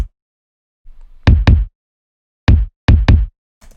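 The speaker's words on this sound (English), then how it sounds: "this is what the kick sounds like" A stock-sample kick drum in a hip-hop beat plays alone: dry, punchy thumps in short pairs and singles with silence between hits.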